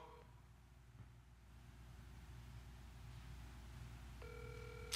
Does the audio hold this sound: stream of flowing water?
no